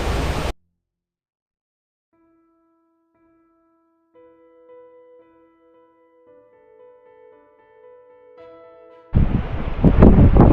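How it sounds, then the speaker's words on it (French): Wind gusting at natural thermal springs in Albania: a short buffeting burst at the start, a long near-quiet stretch with faint steady tones, then loud, rough wind rumble closing the clip. "Alors, là, il y a un peu de vent"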